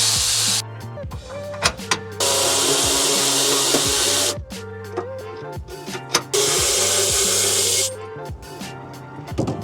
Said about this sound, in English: Or you could use your Milwaukee insider ratchet.